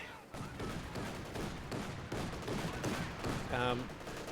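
Dense battlefield gunfire in the Company of Heroes 2 strategy game, a continuous clatter of rifle and machine-gun shots with a brief tonal burst near the end, with a voice faintly present.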